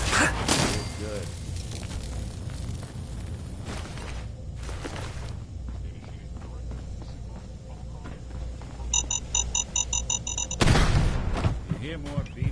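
In Fallout 4, a rapid series of short, high electronic beeps sounds near the end, mixed with booms and gunfire-like bursts, while a person talks.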